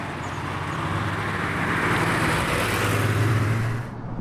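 A 1989 Porsche 911 Speedster turbo wide body drives along with a steady, fairly loud engine drone and road noise heard from inside the car, easing off near the end.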